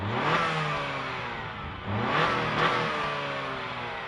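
2024 Acura RDX heard from outside as it accelerates twice, the exhaust rising through rising engine tones with a slight clatter, fairly loud and close with no talk.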